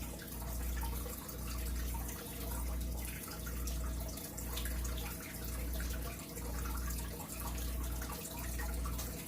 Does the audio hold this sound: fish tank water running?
yes